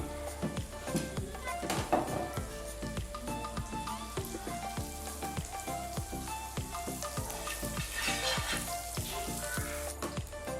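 Rice bran oil and butter sizzling on a tawa for a coconut roll: a steady, fairly quiet crackle with fine popping that carries on throughout without talk.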